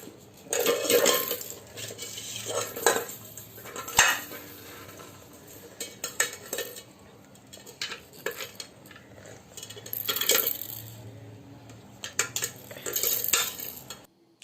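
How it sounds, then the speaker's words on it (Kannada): A child bangs and rattles metal kitchen pots and utensils at home, producing irregular clanks, scrapes and clatters in uneven bursts with short quiet gaps between them. "ನನ್ನ ಮಗ ಅಂತೂ ತುಂಬಾ ಸೌಂಡ್ ಮಾಡ್ತಾನೆ, ಪಾತ್ರೆಯಲ್ಲೇ ಜಾಸ್ತಿ ಆಟ ಆಡೋದು ನನ್ನ ಮಗ ಅಂತೂ."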